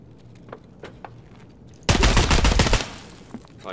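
Gunfire on the Factory map of Escape From Tarkov: a few faint, spaced single shots, then a sudden loud close burst of rapid fire lasting about a second, then quieter scattered shots.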